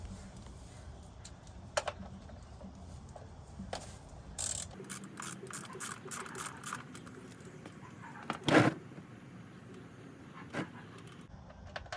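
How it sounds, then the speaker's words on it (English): A 14mm socket ratchet loosens the oil drain plug on a 1992–1996 Toyota Camry 2.2L, giving quiet, close clicking and metallic handling noises in short bursts over a low background. "In order to take the drain plug out, you will be using a 14mm socket."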